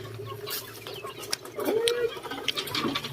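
A chicken being caught gives a short squawk amid rustling and scuffling movement nearby, with background noise throughout.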